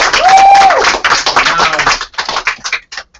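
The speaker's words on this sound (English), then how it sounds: "can we give a round of applause again for you?" A small group claps in a round of applause: dense, close clapping that thins into scattered claps and fades out, with a brief whistle or cheer near the start.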